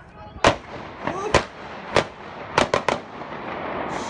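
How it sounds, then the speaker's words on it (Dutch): Gunshots ring out across a public city square as police shoot an armed suspect, heard as about six sharp, loud bangs spaced irregularly, several coming in a quick cluster near the end. "Kort daarna klinken er schoten over het plein."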